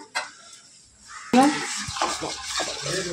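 A spoon stirs red chutney in a pot, with scraping and clinking strokes against the metal and a wet swirling sound, close and fairly loud after a brief quiet start.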